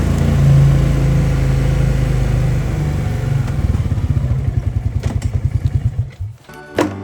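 A quad bike engine runs on a farm, starting as a steady loud drone, then breaking into a rapid chugging putter as it slows and fades, ending with a few faint clanks.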